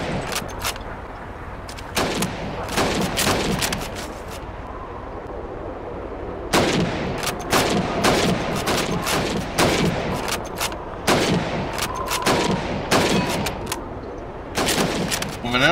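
Rifle shots at target practice in Call of Duty 2 crack in repeated bursts and single reports, loud and close with echoing tails, while voices talk underneath.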